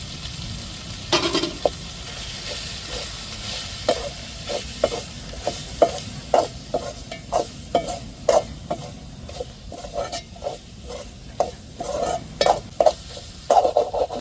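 Dried rock fish fries with masala powders in a pan, a steady sizzle under a run of sharp scraping and clinking strokes as a spoon stirs it, close and fairly loud, with no talking.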